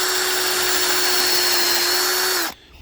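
A power drill whines loudly and steadily at constant pitch for a couple of seconds while boring 1.5 to 2 inches into a maple tree trunk, then cuts off abruptly, leaving quiet ambient noise.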